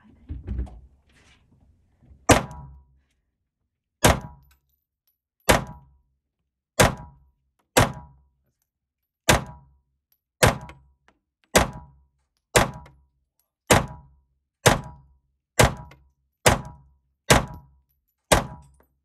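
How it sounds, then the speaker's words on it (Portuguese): A Glock pistol fires about fifteen single gunshots at a steady, slightly uneven pace, each a sharp loud crack with a short decaying tail, close to the listener and with no talk between them. "Gostou de atirar na Glock?"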